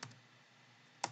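A couple of crisp key presses on a computer keyboard, one at the start and a sharper Enter strike near the end, with quiet room tone between.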